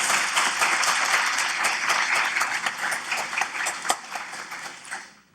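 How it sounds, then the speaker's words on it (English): Audience applause at a UCLA Law event, a steady dense patter of many hands clapping that holds for several seconds before thinning out and fading at the end. "Let's have a round of applause."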